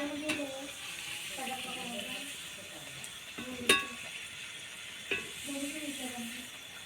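Tavsha (cucumber) vadas sizzle in hot oil with a steady frying hiss, punctuated by a few sharp clinks of a utensil against the pan, while voices talk intermittently over it.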